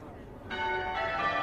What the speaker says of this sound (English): So the majestic bells are now ringing out here at Westminster Abbey.